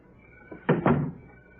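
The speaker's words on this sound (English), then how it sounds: "Close the door." A door is pushed shut with a solid double thump at close range, the two heavy knocks landing a fraction of a second apart in a quiet old radio drama scene.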